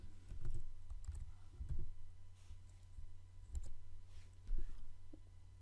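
Keys on a computer keyboard are typed in short, irregular clusters of close, soft clicks over a low background hum, with no talking.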